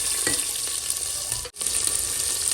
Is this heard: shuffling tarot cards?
no